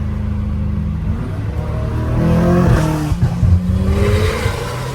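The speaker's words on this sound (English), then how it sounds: "Porsche 911." A Porsche 911 engine drones steadily nearby, its tone rising as the car accelerates and then falling back as it drives on.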